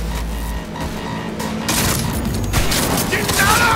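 Gunfire in Cyberpunk 2077 during a car chase, with repeated loud bursts over engine rumble and game effects, and voices talking over the action.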